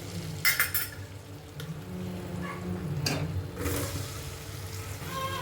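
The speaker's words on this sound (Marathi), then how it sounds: "कांद्याला छान असं परतवून घेऊया" Onion pieces cooking in melted butter in a hot pressure cooker, with a soft steady sizzle underneath, a few clinks of a metal spoon against the pot and some scraping strokes, all close and fairly quiet.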